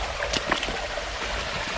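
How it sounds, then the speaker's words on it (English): A stream rushes through a wood, heard as a brief, steady watery wash at moderate distance with no voices. "Oh, I can hear water. Can you hear rushing water?"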